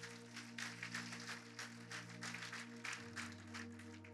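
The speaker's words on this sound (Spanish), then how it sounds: "dale ese aplauso grande al Señor." Church congregation applauding, faint rhythmic clapping over steady keyboard chords, continuous throughout.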